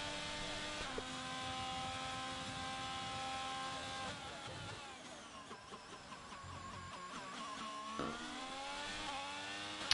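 A race car engine screams on an onboard hot lap at a Hungary event, revving high, then dropping and climbing again through the gears, heard up close with no speech over it.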